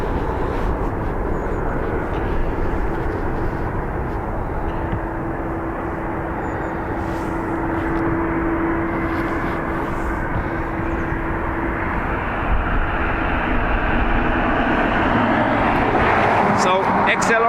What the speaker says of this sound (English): So XLR taxiing over now for Toronto.